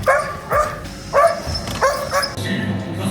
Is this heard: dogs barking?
yes